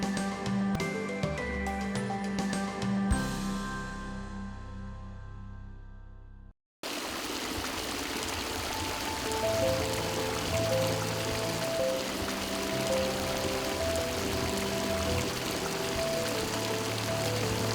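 Spring water from the Rouvas source gushes steadily in a continuous, close rushing wash, following a few seconds of sustained tonal sound that cuts off abruptly.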